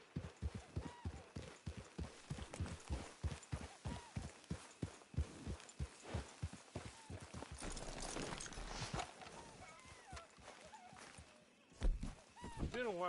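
Horse hooves clip-clop at a walk in Red Dead Redemption 2, a steady run of distinct close thuds that slows and fades toward the end as a voice talks over the game audio.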